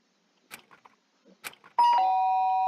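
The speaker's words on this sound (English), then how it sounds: "The sharp sound of the doorbell pierced my sleepy haze and pulled me back to the real world." A doorbell rings once inside the Danganronpa video game, a loud two-tone chime that sustains clearly after a few soft, indistinct sounds at the start.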